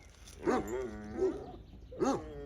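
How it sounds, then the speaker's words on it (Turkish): A dog gives three deep, drawn-out barks or howls, spaced about a second apart and heard from some distance, with no talking. "Süper bir fiziğe sahip köpek."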